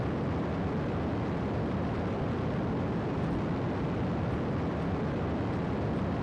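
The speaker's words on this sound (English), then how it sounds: "We should now be firing our thruster suit." A thruster suit fires in the space video game KSA, producing a steady, loud, broadband roaring hiss that holds evenly throughout without pause.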